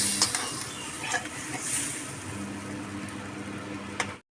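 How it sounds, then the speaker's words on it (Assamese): Food being stirred in a cooking pan while preparing an Assamese lunch, with a soft continuous scraping and faint sizzling that stays steady and close, no voices. "অকণমান লৰচৰ কৰাই দিম"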